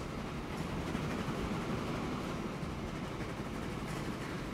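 Steady rumble and rolling clatter of a train running through open country in the Transport Fever 2 simulation game, an open-cab locomotive hauling cars, loud and continuous throughout with no talk.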